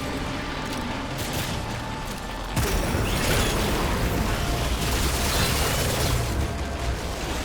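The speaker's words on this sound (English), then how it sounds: "That was the damage from all of the things exploding" Chained explosions and burning effects in the video game Remnant 2 form a dense, continuous roar of booms and crackling bursts, growing louder partway through and staying thick and busy, with no talk.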